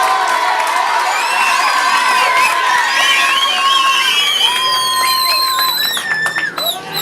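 School audience cheering, whooping and applauding pupils after an inter-class debate, a loud dense crowd roar of children's shouts that runs throughout and thins into scattered claps near the end.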